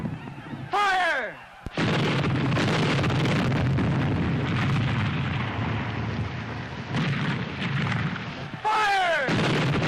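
A gunfire volley after a fire command, heard as a continuous, dense roar of rumbling blasts lasting several seconds, loud and close. Brief shouted voices come at the start and end.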